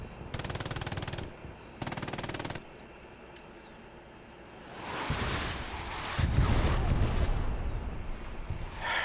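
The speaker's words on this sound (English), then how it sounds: "there's a machine gun right there somewhere" Machine gun fire in a war video game: two sharp rapid bursts close by, then a roaring rumble of distant battle noise and wind building over the remaining seconds.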